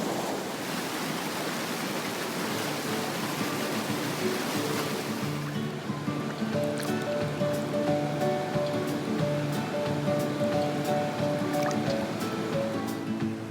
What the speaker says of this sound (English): Surrounded in the sounds of nature, the roaring water,